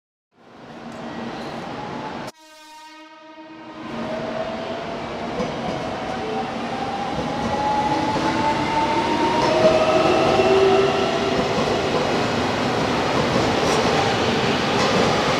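A JR Kagoshima Line local train in Japan passes close by, a loud steady rumble of wheels and cars building and holding for many seconds, with a brief crossing-bell-like tone early and rising squeals.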